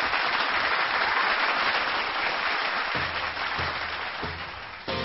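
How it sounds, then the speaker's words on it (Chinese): Sustained audience applause in a television singing competition studio, dense and loud clapping that fades slightly before music begins. "掌声欢迎魏如云的演唱。"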